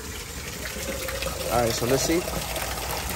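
Well water pours and gushes into a container, a steady close rushing splash that swells slightly toward the end, with someone talking over it.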